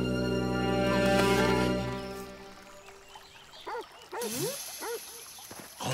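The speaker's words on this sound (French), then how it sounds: "C'est le chien." A dog gives a few short yips and whines after a musical passage fades, the barks scattered and fairly close.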